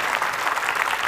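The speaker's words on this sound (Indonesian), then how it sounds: "Boleh tepuk tangan" A studio audience claps steadily at a talk show, dense, even applause filling the whole brief moment without a break.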